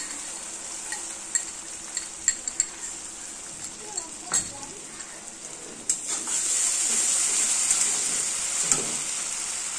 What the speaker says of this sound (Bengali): এই মশলাটা এবার দিয়ে দেবো। দিয়ে এটা ভালো করে আবার কষাতে হবে ভালো করে।